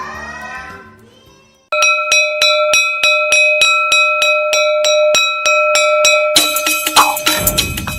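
A school bell in Nepal rings in a fast, steady metallic tinkling run of evenly spaced strikes, loud and close, after a short faint tonal passage, ending with a burst of brighter clatter.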